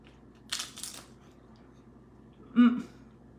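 Crunchy bite of a healthy egg roll in a bowl, a short loud crunch near the end after brief rustling, close to the mic.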